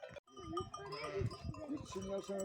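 Sheep bleat on a farm, several wavering calls overlapping close by, with voices talking among them.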